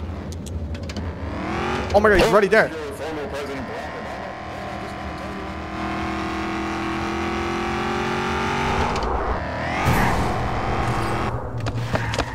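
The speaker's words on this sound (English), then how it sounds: "Turn the car on. I'm pulling up on him." A car engine in the horror video game Obunga starts up and revs, then holds a steady drone while driving, with excited speech breaking in over the motor.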